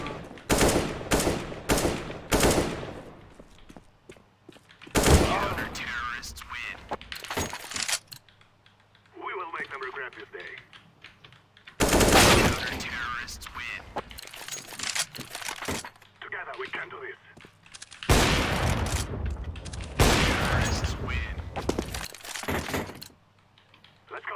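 Bursts of rapid gunfire from a competitive shooter video game come in several loud volleys with short pauses, and quieter clicks and game sounds fall between them. A player talks over parts of it.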